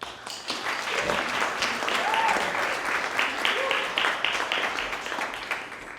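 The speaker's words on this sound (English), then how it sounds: "give them a round of applause" A crowd applauds with steady, dense clapping that fills the room for several seconds, moderately loud and fairly even throughout.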